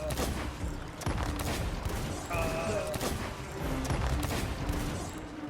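Cannons fire in the pirate video game Sea of Thieves as a dense, continuous barrage of booming blasts and crashes, loud and unbroken throughout.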